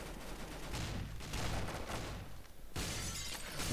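Gunfire in the Roblox Arsenal video game, a fairly quiet, continuous clatter of rapid shots with brief lulls and a renewed burst near the end.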